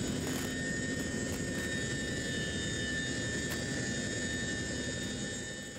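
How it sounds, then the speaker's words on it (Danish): A huge military helicopter approaching during a nighttime special forces raid, a loud continuous rotor and engine roar with a steady drone throughout that eases slightly at the end. "Få sekunder før selve angrebet hører man den enorme helikopter nærme sig."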